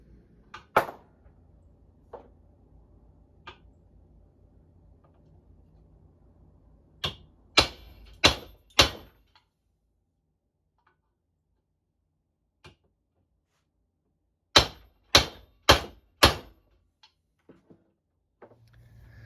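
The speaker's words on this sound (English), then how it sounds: "I have a brass hammer and just knock that sucker" Sharp metallic knocks in two bursts of four brass hammer blows on the worn suspension linkage of a Honda CR125 motorcycle, close and loud, with quiet pauses between.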